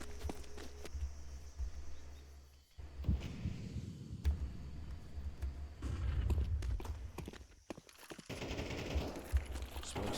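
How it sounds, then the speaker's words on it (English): Rapid gunfire from a Counter-Strike match, with bursts of automatic fire and single shots through smoke, loud and close in a busy game mix of effects and background noise. "It's gonna be George shooting through that smoke there"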